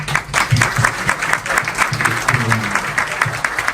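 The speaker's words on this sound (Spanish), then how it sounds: "Fuerte el aplauso." Audience clapping in a room at a literature event, a lively, fairly loud patter of many hands with murmured voices mixed in.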